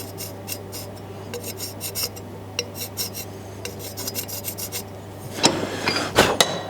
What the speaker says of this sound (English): So just French chalk that in.